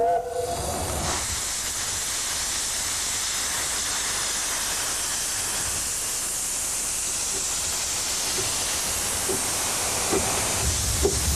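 A steam train pulls out of New Romney station on a narrow-gauge line towards Dungeness, its loud, continuous steam hiss running throughout, with a brief whistle-like tone at the start and a few faint chuffs toward the end.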